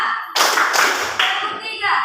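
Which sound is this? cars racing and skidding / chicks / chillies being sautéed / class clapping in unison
class clapping in unison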